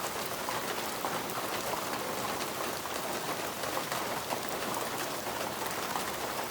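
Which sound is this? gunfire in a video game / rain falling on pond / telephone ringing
rain falling on pond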